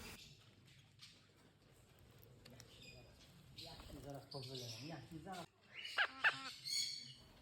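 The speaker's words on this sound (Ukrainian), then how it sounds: "О, ара бушує." A macaw squawks loudly in a tropical bird enclosure, harsh repeated calls coming in bursts in the latter half, with softer chirps earlier and a person speaking over them.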